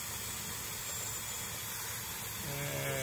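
Water sprays and hisses from a garden hose fitted with a nozzle into a container, a close, steady rushing with faint bubbling churn that deepens slightly near the end.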